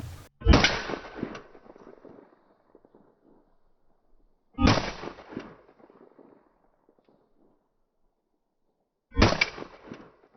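Three 5.7x28 rounds fired at body armor, each a sharp loud report with a short ringing decay, spaced roughly four seconds apart with quiet between shots.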